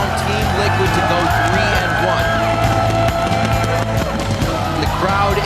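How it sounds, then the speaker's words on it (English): A packed esports arena crowd cheers and roars steadily through a match, a dense continuous wall of cheering with casters talking over it. "The crowd is more than ready"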